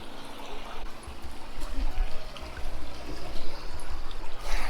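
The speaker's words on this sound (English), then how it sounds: "Made it along the creek." Water trickles and gurgles steadily nearby in a muddy creek near Causey Reservoir, a low continuous burble with outdoor rumble underneath.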